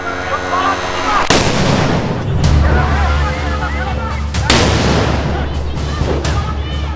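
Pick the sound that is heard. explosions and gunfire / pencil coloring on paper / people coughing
explosions and gunfire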